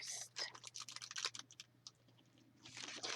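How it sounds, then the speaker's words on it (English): Plastic packaging crinkles in repeated close, crisp bursts while craft pieces are handled and put together, with a brief lull before the rustling picks up again. "sorry for all the crinkling, guys"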